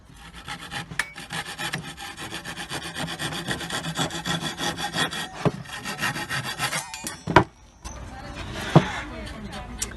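A Parkside Japanese pull saw rasps through material in rapid, steady back-and-forth strokes, close and loud, ending in a few sharper knocks, with someone speaking over it.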